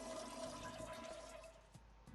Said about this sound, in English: And flush the toilet to empty the tank.